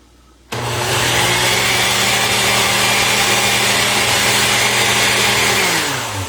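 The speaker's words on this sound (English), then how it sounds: "I'm going to blend this slightly, not much, just slightly" A kitchen blender briefly blends food with a little water for a Jamaican dinner, starting abruptly and running as a loud, steady motor whir for about six seconds before winding down.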